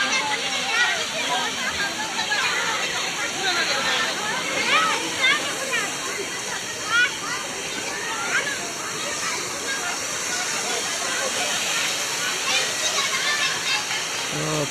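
A waterfall at Harishankar temple roars as a steady broad rush of falling water nearby, with voices and crowd chatter mixed in over the continuous wash.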